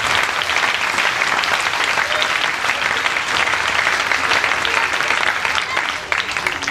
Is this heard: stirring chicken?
no